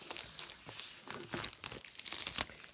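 Cellophane wrapper being peeled off a boxed Blackview A100 smartphone, a close, busy crinkling and crackling of thin plastic in quick irregular bursts for under three seconds, no voices.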